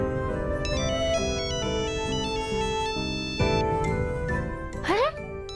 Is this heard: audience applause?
no